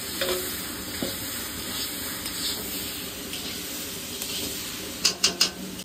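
Potatoes and spices fry in a pan while being stirred, giving a steady close sizzle. Scraping strokes run throughout, and a few short sharp clinks sound near the end.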